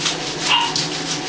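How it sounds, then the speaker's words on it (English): A household dog barks and whimpers indoors in short close yelps, a brief burst of vocal sounds with no speech. "The dog is barking."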